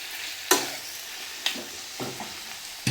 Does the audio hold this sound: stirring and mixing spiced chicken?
yes